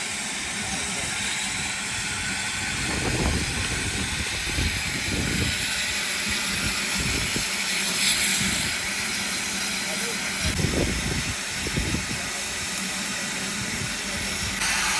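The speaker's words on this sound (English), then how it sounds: "watching the steam train hiss and make its amazing noises" A steam train at Swanage Steam Railway hisses steadily in the background, a broad continuous rush with occasional louder bursts, while people talk nearby.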